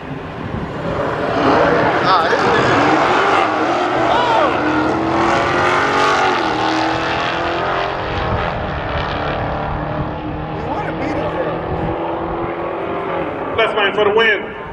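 Two Dodge Hellcats racing side by side, a loud sustained roar of engines building and holding at full throttle, close and continuous, with voices talking over the din.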